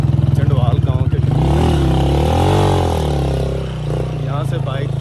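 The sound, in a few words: motorcycle on difficult mountain track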